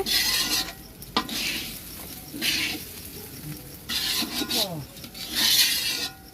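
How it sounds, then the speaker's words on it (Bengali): Cooking at an outdoor picnic with scraping, rubbing and stirring in pots, repeated rasping strokes at an uneven rhythm, fairly close, with some faint talk in the background. "এই যে পিকনিকে রান্না চলতেছে এদিকে"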